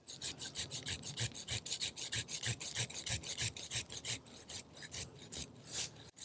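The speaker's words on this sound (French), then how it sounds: "Ça, c'est trop gros pour mon sécateur. Je vais être obligé de prendre ma scie" A hand pruning saw cuts through a fruit tree branch too thick for secateurs, giving a steady run of rasping back-and-forth strokes, close and clear with no talk.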